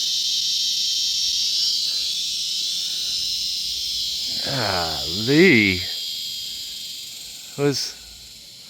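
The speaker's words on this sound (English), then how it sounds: "I don't understand cicadas. There's another one." A loud, continuous, shrill buzzing of cicadas fills the whole recording, with a voice briefly speaking over it.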